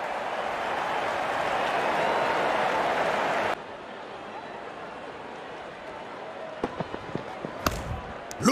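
Crowd applause in the Real Cricket 22 video game during an India vs New Zealand ODI, a loud sustained roar that cuts off abruptly partway, leaving a quieter crowd bed with a few sharp knocks near the end.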